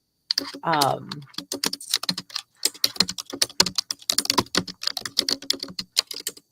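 Rapid clattering keystrokes on a computer keyboard, close and continuous, with a brief hum of a voice near the start.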